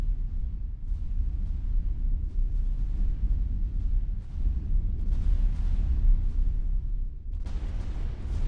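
Heavy, muffled explosions rumble in X4: Foundations space combat, a chain of deep booms and continuous low roar, with a brighter, stronger burst near the end; no talking.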